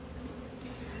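Honey bees buzzing around a nuc hive at an apiary, a dense, steady, close drone of many insects throughout.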